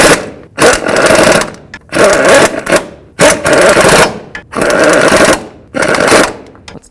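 Impact wrench running bolts into the differential on a 1992-2000 Chevy Tahoe during front CV axle replacement: five loud, rattling bursts about a second each, separated by brief pauses.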